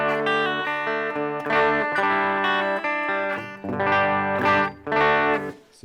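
Electric guitar played through a cheap Fender amp emulation pedal into a Strymon Iridium, with sustained chords and notes that ring with a distorted, effected tone, in loud phrases that swell and stop with short gaps.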